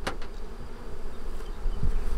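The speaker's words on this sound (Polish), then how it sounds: "Tyle pszczół naraz." A swarm of honeybees buzzing around hives being smoked by a beekeeper, a dense, steady drone close by with individual bees zipping past the ear, continuous throughout.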